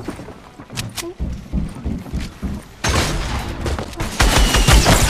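Gunfire and rocket explosions in the video game Fortnite, rapid bursts of shots giving way to dense, loud blasts and rumbling that build toward the end.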